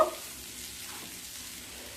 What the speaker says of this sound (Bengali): হলুদ আর লবণ দিয়ে আলুটাকে মিডিয়াম স্টিমে এক থেকে দেড় মিনিট খুব ভালোভাবে ভেজে নেব